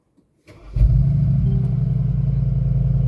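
The 2023 Mercedes-Benz G63 AMG V8 starts near its exhaust outlets with a short starter whir, then catches into a loud bark and settles into a deep, steady, burbling idle rumble.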